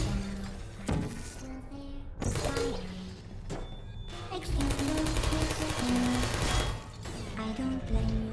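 Portal turrets from the video game Portal firing in rapid, rattling machine-gun bursts, loud and close, with several separate volleys over a steady musical backdrop.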